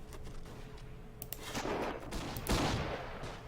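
Gunfire in the WWI urban combat game Battle of Empires 1914-1918 crackles and rattles in a mid-distance barrage, with scattered shots giving way to denser bursts and sharp close reports near the end.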